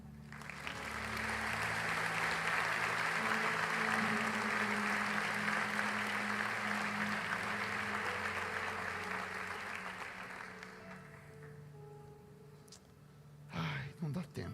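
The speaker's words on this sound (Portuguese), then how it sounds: "Dê um aplauso ao Senhor." Congregation at a church service applauding, a broad sustained wash of clapping that swells and holds for about ten seconds before fading, with a low musical drone beneath and voices near the end.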